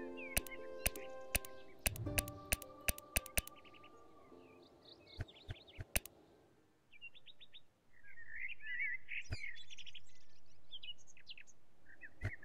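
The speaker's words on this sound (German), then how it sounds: "Vögelchen." Small birds chirp and tweet in short bright phrases in the game Going Medieval, layered over clicks and a low ambient hum, faint and somewhat distant.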